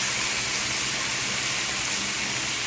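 Starchy pasta water pours into a pan while making homemade lo mein, a steady close splashing gush that runs without a break, with no talking.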